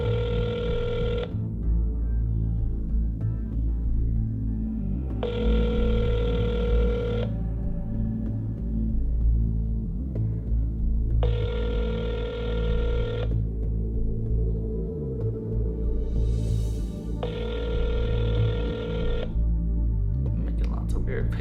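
A phone line rings in four long, evenly spaced bursts of roughly two seconds each, loud and close, with a steady low hum running beneath and between the rings.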